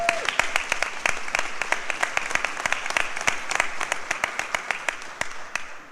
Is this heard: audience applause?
yes